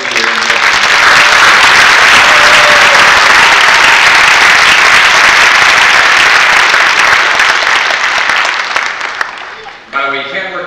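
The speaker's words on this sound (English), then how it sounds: "I think we need to give a big round of applause to Senator Bill Galvano for what he gets done each and every year." Loud, sustained applause from a large audience at an annual governor's summit on disabilities, a dense roar of clapping that holds steady for several seconds, then fades near the end as a voice begins to speak.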